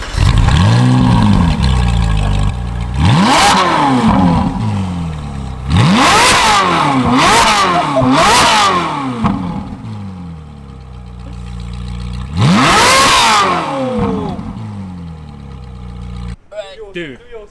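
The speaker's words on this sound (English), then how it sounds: "Rev time." A supercar engine revs hard in repeated bursts, climbing and falling sharply several times with idle stretches between, loud and close, ending with a brief clatter.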